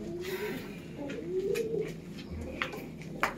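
Domestic breeding pigeons, red-headed and black-headed birds kept at home, cooing in low, rolling murmurs close by, with a few sharp chirps and a faint voice in the background.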